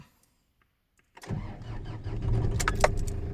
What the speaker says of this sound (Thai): เดี๋ยว สตาร์ทเครื่องเปิดแอร์ ดูครับ